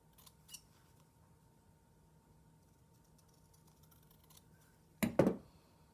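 Scissors make one short, crisp cut through an embroidered fabric piece near the end, after a few faint clicks and handling taps in a quiet room.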